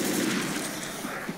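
Rapid gunfire in Left 4 Dead, a steady dense burst of shots running throughout with a couple of sharper reports near the end, close and loud.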